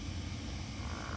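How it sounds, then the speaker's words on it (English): Frogs or toads croak at a small pond, a dense, steady chorus that stays fairly faint beneath broad outdoor noise, with no talking. "that croaking sound you may be able to hear. Hopefully the mic can pick it up as frogs or toads"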